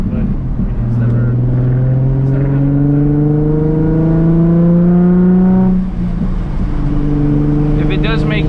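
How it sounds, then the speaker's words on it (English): A Nissan 350Z HR with a Tomei exhaust accelerating through the gears, its engine note rising in long, loud revving sweeps with a gear change partway through, the exhaust echoing off a bridge while people talk inside the car. "Dude, the echo of the car off the bridge."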